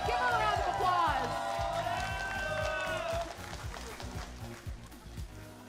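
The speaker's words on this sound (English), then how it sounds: "Give her a round of applause" An audience applauding and cheering a prize winner at a Samsung Galaxy gaming cup watch party, a continuous crowd roar under a loud amplified voice at first, then clapping and cheering carrying on alone.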